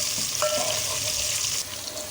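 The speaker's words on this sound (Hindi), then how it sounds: "अब इसमें हम चॉप गार्लिक डालेंगे और साथ ही ग्रीन चिली इसमें शामिल कर देंगे। इसको भून देंगे।" Chopped garlic and green chili frying in a pan, a steady close hiss of hot oil over about two seconds, no talking.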